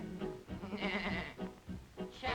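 Several wavering goat bleats, loud and close, one after another with brief gaps, over a busy musical background.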